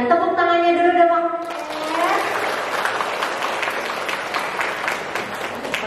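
An audience at a parenting seminar applauds, steady sustained clapping for several seconds that follows a short held tone at the start.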